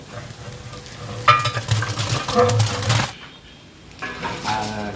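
Mecheri mutton, 45 kg, tipped into a big pot of sautéed onion and tomato for a large biryani batch: a loud sizzling burst with metallic scraping and clatter, easing off, then the hiss rising again.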